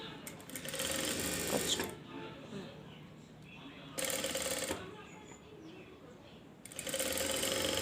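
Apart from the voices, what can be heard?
sewing machine stitching a blouse neck strip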